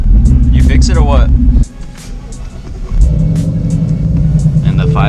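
A Ford 5.0 Coyote V8 runs loud and close with a deep throbbing rumble, cutting out for about a second and then picking back up; people talk over the engine.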